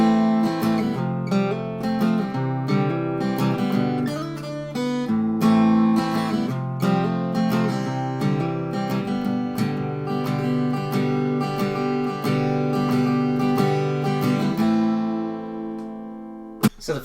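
Acoustic guitar plays the intro of a song, with strummed and picked chords and hammer-ons in a steady flowing rhythm. The guitar is close and clear with no voice, and it ends in a final ringing chord.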